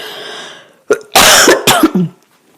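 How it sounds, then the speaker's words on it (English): Someone coughs several times in quick succession, loud and close, after a short stretch of quiet. "I'm about to cough"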